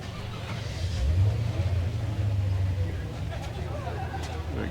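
Classic cars, including a Datsun and a Buick Riviera, rolling past at a Cars & Coffee show in Altadena, a low engine rumble swelling briefly as one vehicle passes nearby, with faint background chatter.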